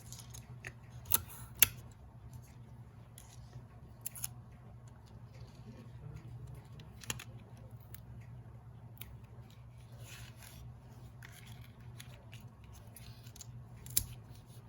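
Scissors trimming paper for a handmade card, a run of soft crisp snips with a few sharper cuts spread across a quiet room hum, no talking.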